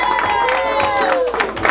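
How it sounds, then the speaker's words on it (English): Live comedy-club audience in Atlanta applauding and cheering loudly for a stand-up comedian, a dense continuous roar of clapping and whoops with a voice calling out over it. "Please, put your hands together and make a lot of noise for Mr."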